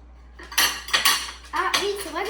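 Knife and fork scraping and clinking against a plate while food is cut, several close, bright scrapes in short bursts with brief pauses between them.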